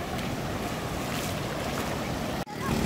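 Ocean surf rolls in at Murud beach in Dapoli as a dense, continuous wash of breaking waves, heavily buffeted by wind noise on the microphone. The sound cuts out for a brief moment near the end.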